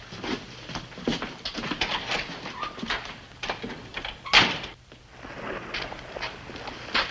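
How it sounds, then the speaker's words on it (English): A back door in a radio drama sound effect, with creaks and bumps of opening, a sharp latch-like clack midway, then quieter shuffling after it closes. "We'll leave by the back door to avoid being seen."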